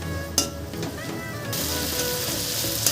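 Spice paste with Kashmiri chilli powder fries in a pan for a dhaba-style egg tarka, a steady close sizzle with stirring and a brief clink near the start.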